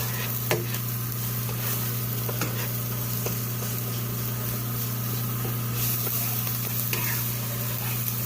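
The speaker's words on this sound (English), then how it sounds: "And now we're going to add the garlic in here. Just let these get caramelized" Garlic fries in a pan in a steady, close, hissing sizzle with scattered pops and crackles, over a low constant hum, with no voices.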